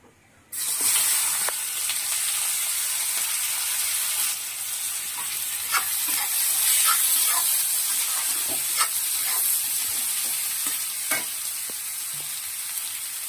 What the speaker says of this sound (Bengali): আর একটু কড়াইতে সর্ষের তেল দিয়ে দিয়েছি, এখন আমি পেঁয়াজটা ভেজে নেব।